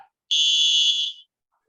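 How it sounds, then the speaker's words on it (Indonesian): One sharp, steady whistle blast, shrill and loud, lasting about a second against silence, starting a physical education drill. "dengar peluit. Kita mulai"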